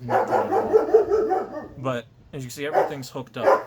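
Household dogs barking and yipping at home, loud repeated barks and whines mixed under someone talking, with a short pause before more barking bursts.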